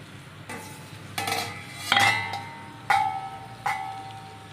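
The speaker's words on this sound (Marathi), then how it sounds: "आपण झाकण उघडून मध्ये मध्ये हलवून घेऊया" Stuffed okra gets stirred in a covered pan, a few sharp metallic clinks and scrapes of a spoon or lid against the vessel, spaced irregularly over a faint low hum.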